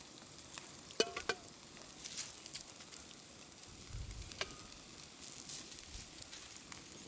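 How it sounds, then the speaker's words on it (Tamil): Ghee poured over a huge peacock sail fish grilling on an open fire sizzles and crackles steadily, with sharp pops and light clicks scattered through a low hiss, close and fairly quiet, no voices. "அப்படியே கொஞ்சம் நெய்யை ஊற்றி விடுமுக்கா"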